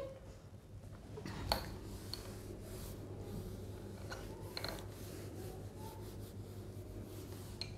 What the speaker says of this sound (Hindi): अब देखो मैं इसको अब रब कर देती हूँ ज़रा सा